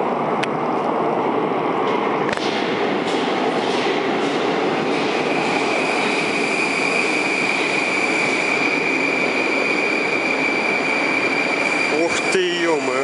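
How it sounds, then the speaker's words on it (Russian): A Moscow Metro train pulls into Savyolovskaya station, a loud continuous rumble of wheels and rail noise with a steady high whine and squeal throughout, close and dominant, with faint background voices and a sharp clatter near the end. "Я, наверное, сейчас подожду поезд Москва, чтобы для вас заснять"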